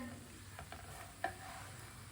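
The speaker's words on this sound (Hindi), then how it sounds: "अब इसे उल्टाते उल्टाते पका लेंगे, जलने नहीं देना।" A paratha cooking in a pan gives a low, steady sizzle with a few soft scraping taps as it is turned, one slightly sharper knock midway, all quiet and without speech.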